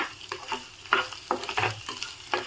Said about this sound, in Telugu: దొండకాయ వేగుతుంది